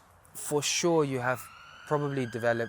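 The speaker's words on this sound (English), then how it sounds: "do excuse the sirens" Emergency vehicle sirens wail right next to a hospital, a rising and falling tone heard clearly under a close speaking voice.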